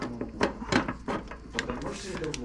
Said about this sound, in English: hopefully this door will shut the way it should